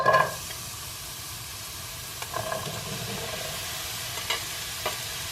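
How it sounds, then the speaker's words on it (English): Onions and peppers fry lightly in a pan with a soft, steady sizzle, opening with a louder clatter as they are stirred, then a few scattered scrapes and taps of a utensil. "I'm going to start off lightly frying my onions and peppers until they're soft"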